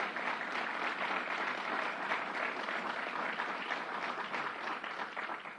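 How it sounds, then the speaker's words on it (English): An audience at a New York state gun-violence emergency briefing gives a sustained round of applause, loud and even throughout and tapering slightly at the end. "So let's give them another round of applause."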